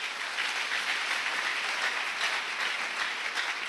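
A church congregation applauds to acclaim the Lord, an even wash of many hands clapping at moderate distance, sustained without a break and with no distinct voices.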